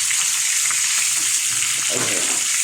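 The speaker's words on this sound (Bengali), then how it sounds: "তো দেখুন কত সুন্দর ফ্রাই করতেছি।" Omani hilsa fish fries in hot oil with a steady, close, continuous sizzle, with brief crackles and bubbling swells as it is stirred.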